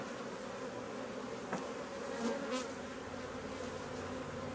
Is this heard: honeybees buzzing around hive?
yes